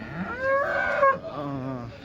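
Cattle at a Sunday cow market in Chintamani give loud mooing calls, one long bellow followed by a lower, drawn-out second moo, near and clear.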